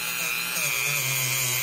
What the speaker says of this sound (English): Now we're gonna clean the handle up with the wire wheel brush.